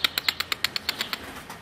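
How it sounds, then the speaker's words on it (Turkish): A pigeon flaps its wings in flight over a balcony, about a dozen quick, evenly spaced wingbeats, close and clear, fading slightly toward the end. "Şu üstte bir tane kuş uçuyor ama bu kuş."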